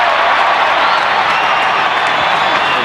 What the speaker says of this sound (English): The crowd starting to roar a bit behind the Pacific Islanders now.